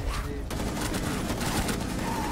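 Rapid gunfire rattles continuously in a zombie outbreak video game, dense bursts layered together at moderate volume, with a faint voice in the background.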